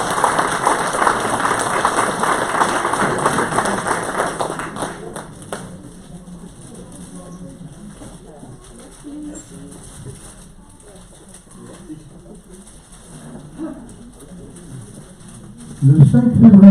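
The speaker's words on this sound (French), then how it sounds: "On peut les applaudir." An audience at a mayor's New Year address in Réminiac gives a full round of applause for local residents, a dense steady clatter lasting about five seconds before fading into quiet room murmur.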